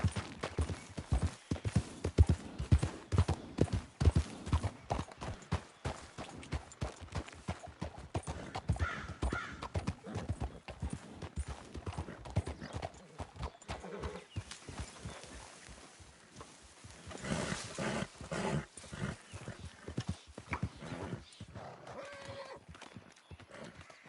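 Horse hooves pound in a rapid, continuous gallop in Red Dead Redemption 2, loud and close. The rhythm shifts partway through, and a whinny and faint birdcalls are heard along the way.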